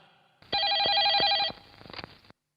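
A telephone bell rings in one loud, sustained electronic burst lasting about a second, followed by a brief clatter of handling noises and then silence.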